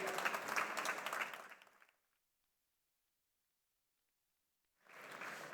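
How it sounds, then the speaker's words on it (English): Audience applause at a South Summit panel on maker spaces, a dense burst of clapping that fades out, followed by silence before another round of clapping starts up. "Please give another round of applause to those kids."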